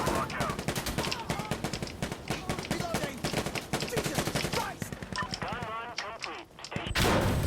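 Gunfire and a grenade blast in the Insurgency Sandstorm video game, with rapid repeated shots through most of the clip, people talking over the game sound, and a loud burst at the end.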